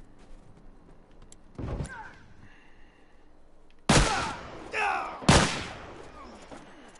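Shotgun blasts ring out in The Last of Us multiplayer: one sharp shot, then two loud close bursts a second or so apart, each trailing off into clatter, with no talk over them.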